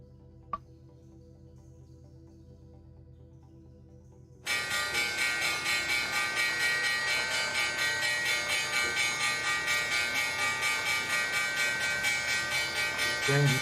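A stock market opening bell rings loud and sustained after a quiet lead-in, its steady metallic clanging running for about nine seconds.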